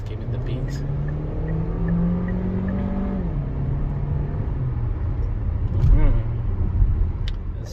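A 2023 Beijing X55 accelerating in sport mode in fourth gear at about 50 km/h, a steady engine drone rising smoothly in pitch with a slight shift around midway, heard from inside the cabin.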